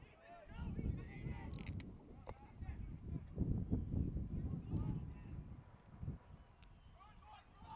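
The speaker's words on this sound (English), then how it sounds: "it's a pretty windy day here, so if some of that comes through in the mic" Gusty wind buffets the microphone outdoors at a boys' soccer match, producing low rumbling bursts over faint background sounds.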